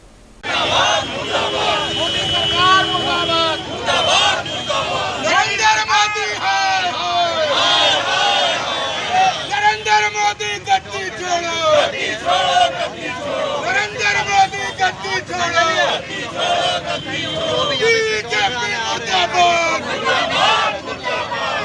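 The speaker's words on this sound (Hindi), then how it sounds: "महंगाई और लगातार बढ़ते पेट्रोल डीजल के दामों के खिलाफ कांग्रेस कार्यकर्ताओं ने विरोध प्रदर्शन किया।" Dense, loud crowd of Congress party workers protesting inflation and rising petrol and diesel prices in Jamshedpur, with overlapping shouting and chanted slogans in waves throughout.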